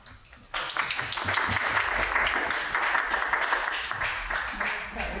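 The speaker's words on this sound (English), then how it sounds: "I want to give them a round of applause too" A crowd at a chamber of commerce candidates' meeting breaks into sustained applause, many hands clapping steadily for several seconds at a fairly loud, even level.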